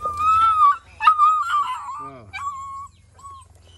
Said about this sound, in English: Alsatian, German Shepherd.